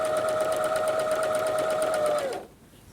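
Sewing machine stitching fabric while a dress zipper is attached, a fast, even mechanical whir with rapid needle ticks, running steadily up close before stopping abruptly near the end.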